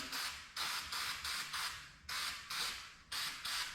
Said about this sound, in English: spray the heck out of these things